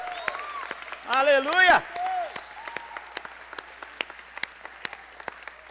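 A church congregation at a Brazilian service breaks into loud applause that swells and fades within a couple of seconds, mixed with cheering voices, followed by sparse scattered claps while a person speaks.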